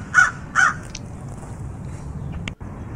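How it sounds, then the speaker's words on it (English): Two loud crow caws in quick succession from Hello Neighbor, close and harsh, followed by a quiet low rumble of game ambience. "Oh, that's a crow right there."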